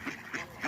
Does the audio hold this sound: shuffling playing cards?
no